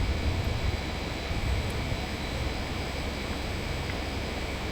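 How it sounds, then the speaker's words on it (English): An aircraft engine drones at full power in the Aerofly FS 2 flight simulator, a loud, steady broadband buzz that holds unchanged throughout with no talk over it. "And listen to this engine's buzz."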